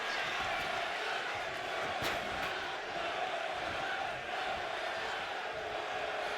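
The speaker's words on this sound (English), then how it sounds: "This crowd is going bananas." Arena crowd roaring and cheering during a wrestling match in the WWE 2K25 video game, a dense, continuous wash of noise that holds steady throughout.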